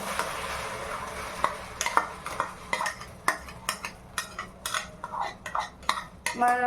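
Paneer butter masala gravy tipped into hot oil in a pan and stirred, with a spoon repeatedly clinking and scraping against the metal pan, close and fairly loud over a low sizzle, no voices.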